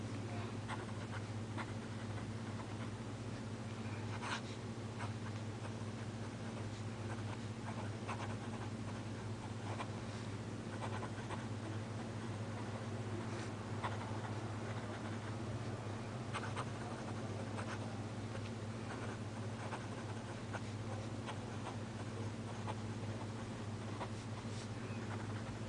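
Handwriting with a Pilot Kakuno fountain pen on paper, a soft continuous scratching of nib strokes, faint and close over a steady low background hum.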